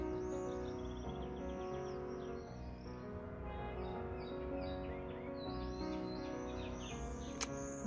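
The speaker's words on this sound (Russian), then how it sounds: "Ласточки, ласточки кричат." Swallows call at sunset, high thin chirps and twittering scattered over a quiet, low-level outdoor backdrop, fairly faint and distant.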